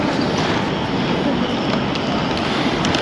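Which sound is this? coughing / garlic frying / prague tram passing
prague tram passing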